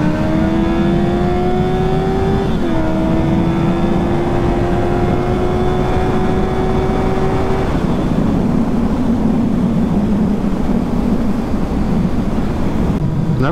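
Kawasaki Z750 motorcycle engine revs hard and climbs steadily in pitch through the gears while overtaking, shifting once early on, then settling into a loud, steady road drone with wind noise, close to the rider's microphone.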